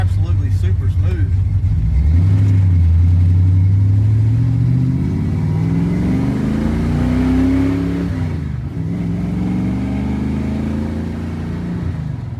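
A grey car's engine accelerates on its first drive, a loud rumbling rise in pitch that holds and then eases off, steady and close throughout.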